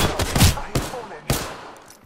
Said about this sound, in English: Shot fired and they're hitting me.